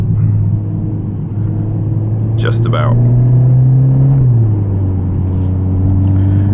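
Engine of a Mercedes CLA45s AMG pulls through the gears while driving in traffic, a loud steady low drone that rises in pitch before dropping with a shift; someone speaks briefly over it.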